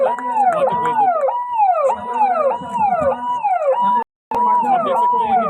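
An ambulance siren arrives at a disaster-relief demonstration in Udaipur, a loud, close, wailing up-and-down tone repeating steadily, briefly cutting out before resuming.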